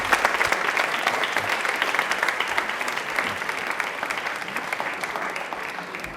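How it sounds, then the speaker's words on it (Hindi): Loud, dense applause from a studio audience for a quiz show winner on a televised quiz program, sustained clapping throughout without pause. "तालियां एक बार प्रवीण के लिए जोरदार बजा दीजिए"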